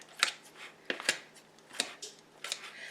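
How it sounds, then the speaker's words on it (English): Several crisp snips of scissors cutting ham, spaced irregularly, close and fairly quiet with no talking. "I'm going to just take my scissors and just cut this a little bit."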